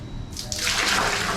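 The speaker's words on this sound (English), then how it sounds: "you flush the toilet with the ladle, you fill the ladle up in the bucket" Water from a ladle poured into a Bali squat toilet, a sudden splashing gush that starts abruptly and keeps rushing for about a second, close and fairly loud.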